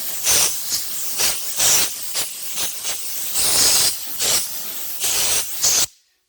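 Spray painting a steel gate, a series of close hissing bursts of varying length, closely spaced and ending abruptly in silence.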